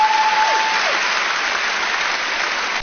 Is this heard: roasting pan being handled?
no